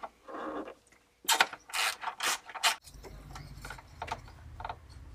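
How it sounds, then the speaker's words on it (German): A ratchet loosens the connection screws on a Bodis Q1-S end muffler, a close run of quick, loud clicking bursts followed by a quieter, duller mechanical rattle. "dann lösen wir mal die Verbindungsschrauben für den Endschalldämpfer"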